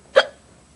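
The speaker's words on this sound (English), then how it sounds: "Do you have the hiccups?" A single short, sharp hiccup from a person, loud and close, followed by quiet.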